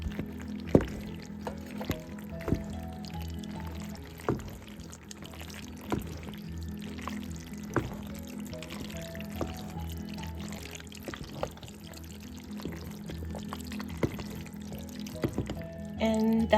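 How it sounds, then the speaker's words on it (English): Dry pasta shells pour into a pot on a stovetop while making mac and cheese, giving a steady rattling patter with scattered clicks that runs throughout, with faint speech at moments. "in goes my pasta. I'm using shells today."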